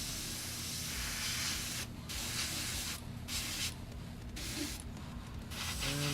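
Airbrush spraying paint onto a model kit, a steady close hiss in several bursts separated by short pauses, with no talking.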